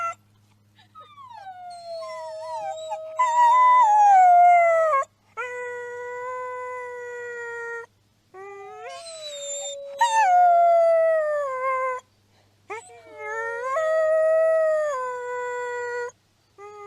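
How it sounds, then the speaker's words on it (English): Wolves at the Wolf Conservation Center howling in a chorus of long, sliding, overlapping howls, loud and close, rising and falling in several waves with short pauses between them. "What a great way to end this is to give a howl."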